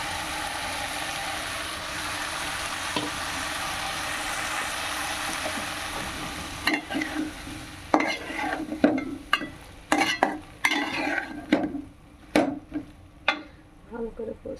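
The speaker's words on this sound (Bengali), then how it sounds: "আমি সয়াবিনটা ঢেলে দেবো। সয়াবিনটা এর মধ্যে দিয়ে দিই।" Soybean chunks are stirred into spiced masala in a pan, first a steady frying sizzle, then a string of scraping, clattering spatula strokes against the pan.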